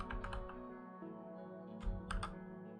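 Keys tapped on a computer keyboard, typing an IP address into a browser: a few quick clustered clicks at the start and again near the end, quiet, over a steady low hum.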